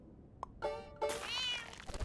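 Short cartoonish cat meows from the Super Auto Pets video game: a tiny blip, then two rising, drawn-out mews in quick succession, clear and close over a quiet background.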